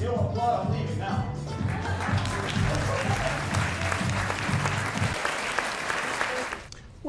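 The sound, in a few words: audience applause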